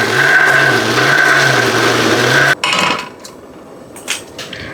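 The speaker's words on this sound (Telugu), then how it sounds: "ఇప్పుడు మిక్సీకి వేసుకుందాం." A kitchen mixer grinder runs loud and steady with a high whine for about two and a half seconds, then cuts off abruptly, leaving a few faint clinks and taps.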